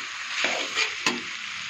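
Potatoes sauté in a pan for ghugni, a continuous hiss of frying broken by two or three scraping stirs of a spatula, close and without voices.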